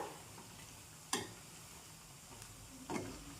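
Soybean pakoras frying in hot oil and being stirred, a quiet steady sizzle with two sharp knocks of the spoon against the pan.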